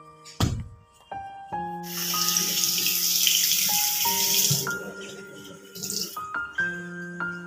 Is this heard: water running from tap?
yes